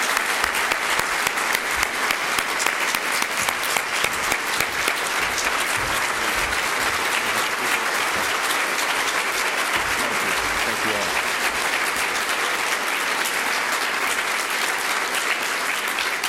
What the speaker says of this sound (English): let's give a round of applause for our CEO, Burrell Ellis